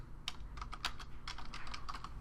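Close computer keyboard typing in irregular bursts of crisp key clicks while JavaScript code is entered, steady and fairly quiet with no voices.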